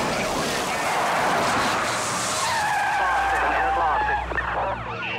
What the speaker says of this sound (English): It's a terrifying collision.